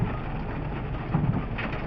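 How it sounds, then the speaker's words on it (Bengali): Heavy rain mixed with hail pounds a stopped car during a storm on the Riyadh to Madina road, a dense, steady hissing roar heard from inside with no break. "বৃষ্টির সাথে শিল পড়তেছে যার জন্য যাওয়া যাইতেছে না"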